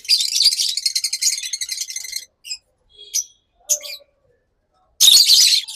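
A pair of lovebirds, one violet opaline and one blue opaline, give a rapid run of high chirps, then scattered short calls with gaps of silence before a final loud burst of chatter.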